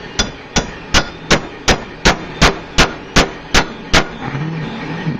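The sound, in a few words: hammering copper bangle on metal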